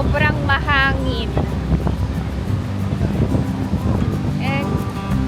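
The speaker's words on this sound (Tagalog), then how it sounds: "Sobrang mahangin." Strong wind in Kamakura, Japan, near Shichirigahama, roars and buffets the microphone continuously, with brief speech and a train announcement chime over the rumble.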